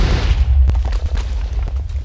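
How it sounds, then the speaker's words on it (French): A TNT cannon explosion in Minecraft, a loud, deep boom followed by a string of sharp popping blasts and rumbling over a couple of seconds, with no voices. "vous voyez qu'il a explosé dans l'air"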